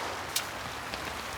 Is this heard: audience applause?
no